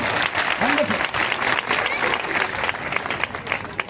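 A church congregation at a Christmas celebration clapping together, dense steady applause that fills the room, with a voice speaking over it.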